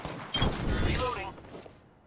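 Gunfire in the video game Apex Legends, a sudden loud burst of rapid shots and impacts that rings on briefly before tailing off, mixed with game voice sounds.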